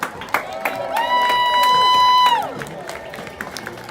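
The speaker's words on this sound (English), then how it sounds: "Give them a round of applause." Crowd applause and cheering for young mini cheer camp cheerleaders in 5th and 6th grade, a steady mass of clapping with shouts, and a loud sustained whistle-like tone in the middle.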